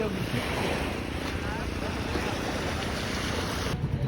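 Steady surf and wind roar at the shoreline, with a low motor-like rumble of a boat running throughout, loud and continuous.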